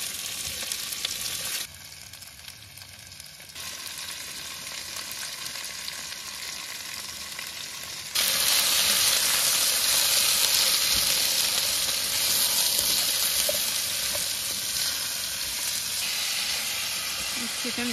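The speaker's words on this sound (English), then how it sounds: "Carrot and potato. Let it sizzle for a while." Carrot and potato sizzle steadily in a hot pan, a continuous crackling hiss that grows louder partway through, with no one talking.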